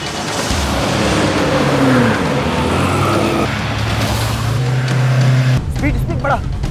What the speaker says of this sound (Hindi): लगता है ये गाड़ी है।